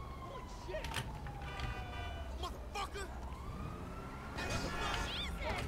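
Police siren in GTA V Online, a wailing tone rising and falling at a middle distance amid game noise and scattered bursts of sound, with people talking over it.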